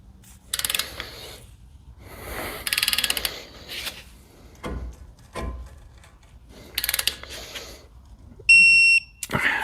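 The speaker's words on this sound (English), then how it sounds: "I'm going to go ahead and I'm going to torque this bolt down" A torque wrench ratchets on a bolt of a BMW N20 engine during a timing chain job, with several close bursts of rapid clicking separated by pauses, ending in a short high electronic beep.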